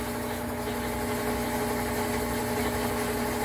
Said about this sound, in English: So the wash machine did a board reset. And now it seems to be spinning out correctly.